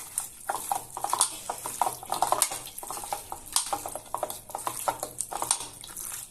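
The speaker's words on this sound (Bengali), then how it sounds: "এবার পুরো মাংসটা মেখে নেব।" Chicken meat is worked by hand with turmeric, salt and mustard oil, producing a steady run of close, wet squelching and slapping with light clinks against a bowl, alone and continuous throughout.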